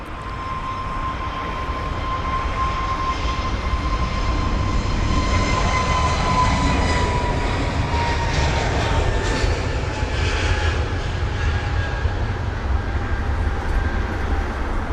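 Steady, loud roar of an Airbus A321neo's jet engines departing London Heathrow dominates throughout, with a long tonal whine sliding slowly downward over the broadband rumble.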